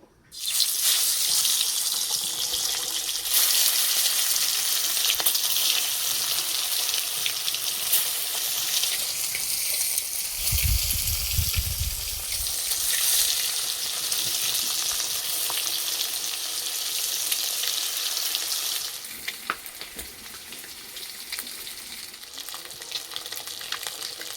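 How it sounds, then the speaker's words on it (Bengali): Eggs frying in mustard oil in a wok sizzle loudly and continuously, with a brief low thump midway, before the hiss settles lower toward the end. "কড়াইয়ে সর্ষের তেল দিয়ে ডিমগুলো ভেজে নেব"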